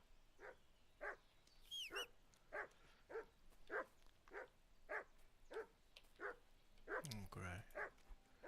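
A dog barks at a distance in a steady series of single woofs roughly once a second, with a brief whistle-like sound and a short noisy burst partway through.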